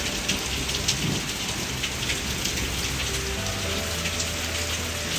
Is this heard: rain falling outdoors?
yes